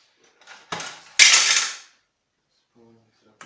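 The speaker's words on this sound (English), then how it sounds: "spoon mix it up a little bit" A metal spoon scrapes and clanks against a cooking pot while stirring chicken, rice and mixed vegetables, two or three loud scraping strokes close up, then near silence.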